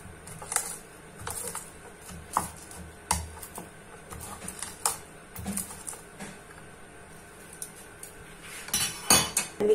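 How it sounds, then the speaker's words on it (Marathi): Peanuts with their skins on are pounded by hand in a kitchen, making quiet, irregular knocks and clinks that come in scattered clusters with no talking. "शेंगदाणे पण आपण याच्यासोबतच चेचून घेतो"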